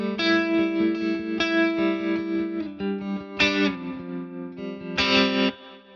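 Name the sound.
guitar through Tone King Imperial preamp, stereo tremolo and reverb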